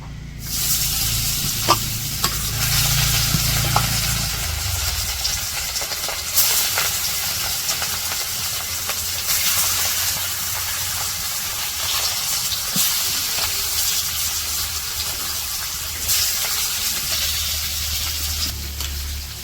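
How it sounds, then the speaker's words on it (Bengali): Fish frying in oil in a wok in a village kitchen makes a loud, continuous hiss and sizzle, close up, with a low rumble in the first few seconds and no talk. "মাছ ভাজার জন্য কড়াই তেল দিয়ে দিছে, এখন মাছগুলোও দিয়ে দিব।"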